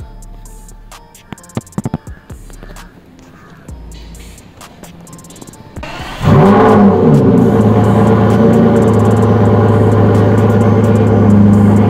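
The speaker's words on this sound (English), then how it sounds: "The big V12 in a small car." A Ferrari 812 Superfast's 6-litre V12 fires up after some clicks and handling noises, then settles into a loud, steady, rich idle that holds strong to the end.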